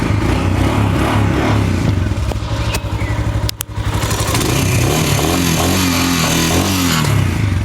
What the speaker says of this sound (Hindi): देखिए जो साउंड है वो हैवी है, क्योंकि 440 सीसी का इंजन है तो साउंड हैवी है।